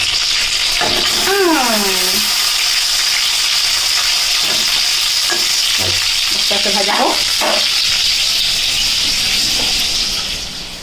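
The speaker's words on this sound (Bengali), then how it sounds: "আস্তে আস্তে ভাজা হোক" Steady, loud sizzling of food frying in a pan, with a few brief voices and chirpy sounds over the hiss, continuing throughout.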